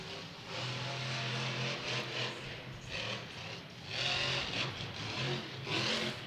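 A Monster Jam truck's engine revs hard through a freestyle run inside a domed arena, the roar swelling and dipping in repeated surges over loud crowd and arena noise.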